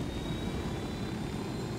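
Helicopter in the video game Ghost Recon Wildlands, a steady dense engine and rotor roar filling a short stretch, loud and continuous with no talk.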